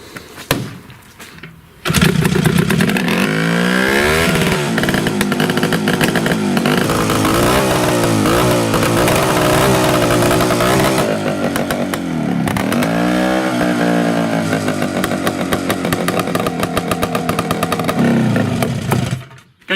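A DIY dune buggy engine with one cylinder not firing runs loud and rough after a sudden start, a steady uneven drone that holds for most of the span before cutting out near the end.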